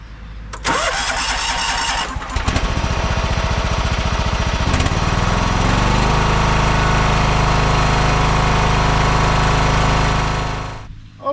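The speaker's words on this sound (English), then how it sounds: "Okay, so the engine surge is back." An old John Deere lawn tractor engine cranks and catches, then runs loud and close with a steady drone that rises and falls as it surges, before cutting off abruptly at the end.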